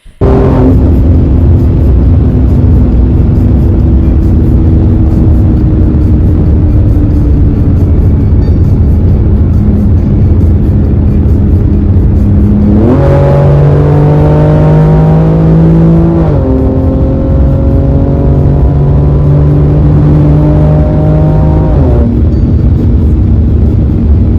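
A BMW sports car engine revs loudly, its pitch climbing and dropping through several surges, then settling back to a steady rumble; no voices.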